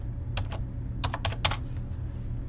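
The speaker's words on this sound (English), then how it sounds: "And if I type from the keyboard," Quick clusters of crisp key clicks from typing on a computer keyboard, a few isolated taps and then a faster burst, close up over a faint room hum.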